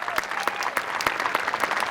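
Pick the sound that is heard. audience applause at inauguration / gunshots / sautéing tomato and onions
audience applause at inauguration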